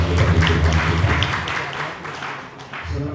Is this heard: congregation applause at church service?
yes